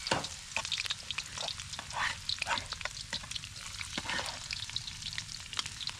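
Chopped onion, garlic and ginger frying in a hot pan, a close crackling sizzle broken by repeated stirring scrapes and clicks of a utensil against the pan.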